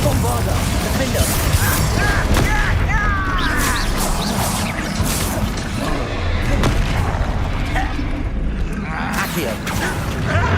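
Bombarda spell explosions from Hogwarts Legacy boom and crash in a dense, continuous stream of combat, loud and close, with sharp impacts and clatter layered over game noise and shouted voices.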